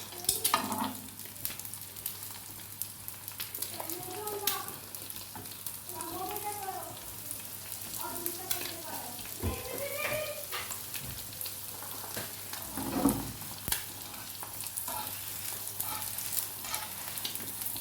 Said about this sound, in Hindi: बस ये हम पराठा अच्छे तरीके से सेंक लेंगे।